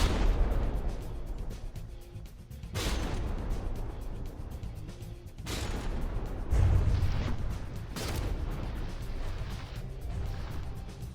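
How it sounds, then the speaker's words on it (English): Cram cannon shots hitting a turret in From the Depths, heard as several heavy booming impacts spaced a few seconds apart over a constant low rumble of battle noise, with no speech. "you can tell those are secondaries because this turret just ate 2 cram shots"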